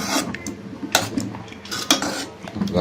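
A utensil stirs glycerin soap mixture in a pot with close scraping and clinking strokes. Sharp metallic taps land about once a second over a softer rubbing swish.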